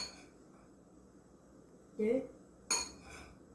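A spoon clinks twice against a bowl while tablespoons of flour are measured in for a homemade flour paste glue, with a voice speaking over the quiet scraping.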